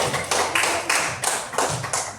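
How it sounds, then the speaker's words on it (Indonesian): Classroom applause for a student, a short burst of rhythmic hand claps in a few distinct bunches, near and fairly loud with no talking over it. "tepuk tangan untuk Zaki"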